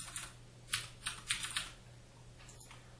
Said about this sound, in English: You'll also be able to type in dates manually